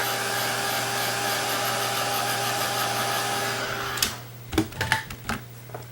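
Hair dryer blowing steadily on wet acrylic paint at close range, a loud continuous whir for about four seconds before it shuts off, followed by a few soft taps and small handling noises.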